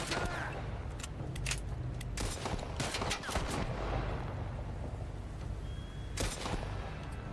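Gunfire in a video game sounds as a spread of sharp shots and short bursts, some grouped together and others apart, over a steady low rumble at a moderate distance.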